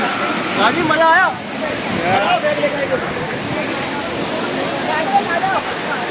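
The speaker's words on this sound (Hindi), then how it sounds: "जो पानी गिरने के बाद जो फव्वारे उड़ रही है, जो चेहरे पे लग रही है" Falling water and drifting spray at Amargarh waterfall make a constant broadband rush, near and even, while people talk over the roar.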